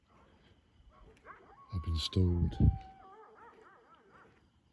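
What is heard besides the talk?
dogs barking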